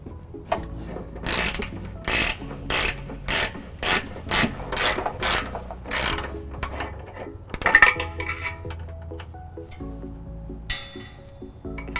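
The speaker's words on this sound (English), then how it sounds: "I'll be using a ratchet 5-inch extension and 17mm socket to take these down." Ratchet with a 5-inch extension and 17mm socket loosening trailer hitch bolts on a 2014 Toyota Prius Plug-In: about ten sharp, evenly spaced clicking bursts, close and clear, followed by quieter scraping and handling noises.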